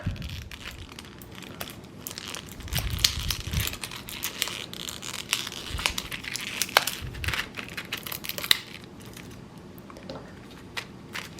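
A taped Miniverse miniature package being opened up close, with steady crinkling, crackling and tearing of plastic and tape over several seconds, no talking.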